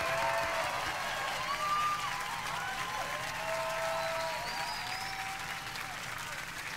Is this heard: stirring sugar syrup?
no